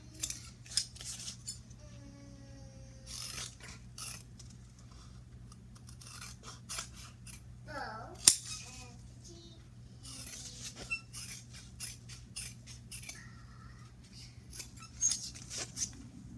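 Scissors snip through sewn fabric in short, crisp cuts, spaced irregularly over a quiet low hum, close by and fairly faint, with a small clink now and then.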